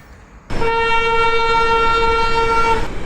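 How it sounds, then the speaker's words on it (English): A loud, steady train horn blares for about two and a half seconds on a bridge, starting abruptly and cutting off cleanly, with faint rumble beneath. "A final train meets the heritage train on the bridge, also pulled by a veteran locomotive"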